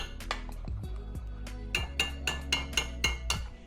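A metal spoon works tomato paste into a pot of shrimp gumbo, giving a quick run of bright, ringing clinks and scrapes against the pot over a steady low background hum, with no talk.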